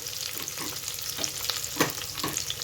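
Spices frying in a pan for mutton gravy curry, a continuous close sizzle with rhythmic scraping and stirring strokes from a spatula repeating every half second or so.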